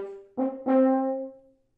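A short played phrase of three notes, the last one held briefly and then cut off abruptly rather than ringing out, quiet and close.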